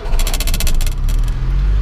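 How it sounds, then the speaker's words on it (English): A license plate rattles on a running 1989 Honda Today XTI with a fuel-injected 550cc engine: quick metallic buzzing bursts over a loud, low idle rumble, close by. "So sorry that the plate here making noise."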